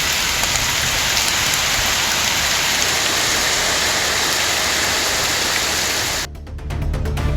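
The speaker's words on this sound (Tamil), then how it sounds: "சுமார் 1 மணி நேரத்திற்கும் மேலாக பெய்த மழையால் சாலையில் மழைநீர் பெருக்கெடுத்து ஓடியது" Heavy rain pouring onto a road in Tamil Nadu, a loud dense steady hiss that cuts out abruptly near the end before resuming faintly.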